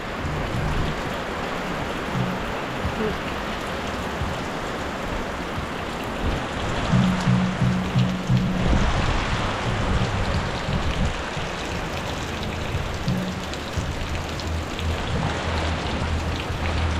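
Steady rain pours over rice fields in a rural Lao setting, a dense continuous hiss of drops with occasional low rumbles, heard alone.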